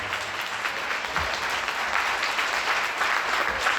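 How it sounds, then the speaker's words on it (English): A crowd at the Louisville Dirt Bowl Hall of Fame Awards 2025 gives its inductees sustained, dense applause, a steady wash of clapping that holds at an even level without a break. "can we give all of our Hall of Fame inductees a round of applause?"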